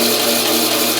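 A bandsaw runs just after new tires have been fitted, a brief, loud, steady motor hum with an even whir and no voices.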